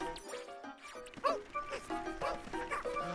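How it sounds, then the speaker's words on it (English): Dogs barking in the video game Pikmin 4, a run of yapping, yipping barks over game music and effects, fairly close and steady. "Oh, the dogs!"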